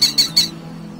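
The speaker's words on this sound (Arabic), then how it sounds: "صاد، صقر. صقر." A falcon gives three quick, sharp, shrill calls in a row, loud and close, then fades to quiet.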